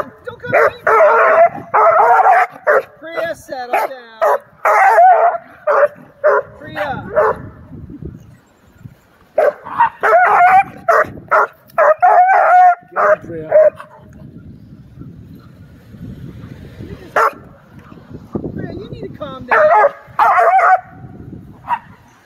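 A coonhound and a Doberman bark loudly in rapid bursts while chasing each other outdoors, with yips and whimpers between volleys and brief quieter gaps.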